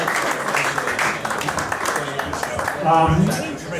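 Applause from a crowd at a collectors' night event, a dense rumble of clapping mixed with chatter and a speaking voice, steady throughout the short stretch.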